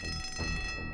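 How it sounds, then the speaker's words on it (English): Electronic alarm ringing in the psychiatric-hospital video game Asylum, a steady high-pitched tone with stacked bright harmonics running continuously and loud, cutting off near the end. "No doubt the noise of the alarm would disturb the dangerous patients even more"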